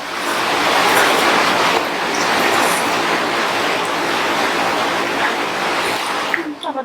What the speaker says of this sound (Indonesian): Tambah terus guys hujannya.